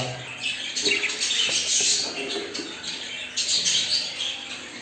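Budgerigar chicks in a nest box give a dense, continuous stream of high, raspy chirps and squeaks that overlap and swell in bursts, close and fairly loud with no talking.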